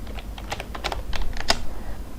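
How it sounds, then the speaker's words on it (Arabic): Fingers type on a computer keyboard, a quick close run of light plastic key clicks in an uneven rhythm, with no speech. "نكتب تي اي داتا بالانجلش"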